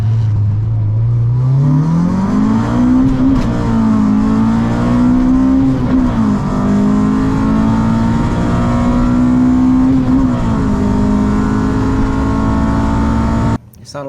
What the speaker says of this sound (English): you can hear fourth gear kind of slipping